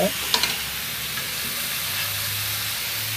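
Duck meat sizzles steadily in a hot wok for spicy rica-rica, a loud continuous frying hiss with a couple of sharp clinks of stirring near the start.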